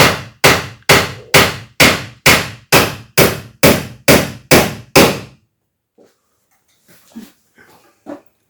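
A hammer taps a nail through a nail set during kitchen finishing work: eleven evenly spaced, loud, ringing strikes in a steady rhythm, followed by quiet with faint scattered handling sounds.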